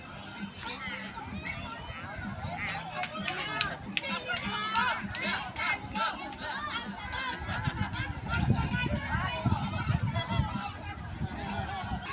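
A busy outdoor place where vehicles are being parked is filled with the constant chatter of a large crowd, many overlapping voices near and far, with occasional sharp sounds and someone talking over it.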